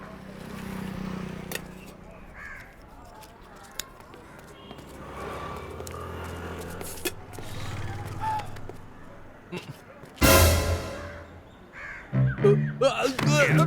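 Crows caw in short, sharp calls scattered through a tense scene, with a loud burst near the end and people's voices over the mix.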